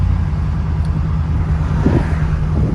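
RAM Hemi pickup truck engine fitted with a new turbo intercooler system, a deep steady rumble heard from inside the cab, with a faint swell partway through as the engine works harder.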